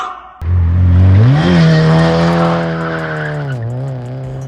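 Mazda Miata drifting on the road, tires squealing loudly as the engine rises sharply then holds a high, strained note through a long slide, close and dominant with no talk.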